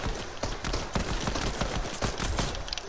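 Dense, rapid gunfire from the Fortnite video game, loud shots crackling in quick bursts throughout with no talking.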